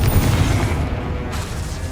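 Confringo fire spell blasts in the Hogwarts Legacy video game: a steady run of heavy, rumbling booms and crackling impacts, loud and dense throughout with no speech.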